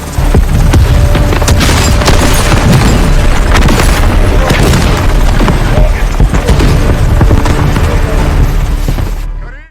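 A compound building blows up in Call of Duty Modern Warfare 2, a loud, sustained roar of blasts and rumbling debris that fills the whole stretch before cutting off, with a voice partly mixed in.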